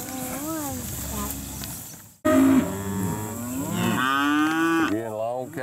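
Several cattle moo loudly and close by at a Georgia cattle sale, long drawn-out bellows overlapping one another, with a brief gap partway through before a louder cluster of calls.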